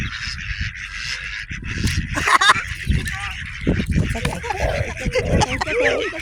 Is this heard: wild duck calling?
yes